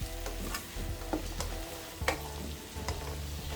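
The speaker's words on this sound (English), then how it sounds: "Now I fried the carrot for about 2 minutes," Carrots sizzle in a hot pan for egg fried rice, a close, steady frying crackle broken by occasional scrapes and taps of a spatula stirring the pieces.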